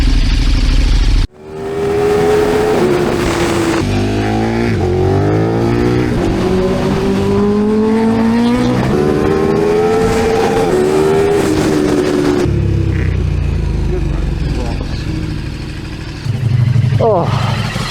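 A 200 whp Kawasaki motorcycle revs hard off-road in Scotland, its engine note climbing and falling in long, loud sweeps, with a rider's voice heard over it.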